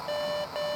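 A walkie-talkie in the Beacon Pines video game gives off a steady electronic beep tone, two short bursts with a brief dip between them, thin and moderately quiet with no voices.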